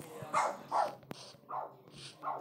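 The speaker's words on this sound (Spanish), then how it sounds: "Lo siento si escucháis un perro, ¿vale?" A neighbour's dog barks in the distance, a handful of muffled separate barks spaced through a quiet room with faint background hum.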